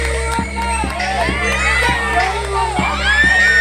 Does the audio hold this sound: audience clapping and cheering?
yes